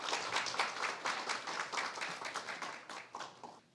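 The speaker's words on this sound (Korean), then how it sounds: "교수님을 큰 박수로 모시겠습니다" A Korean corporate-culture meeting audience applauds to welcome a Yonsei University professor to give his keynote lecture, with steady, dense clapping that holds for several seconds.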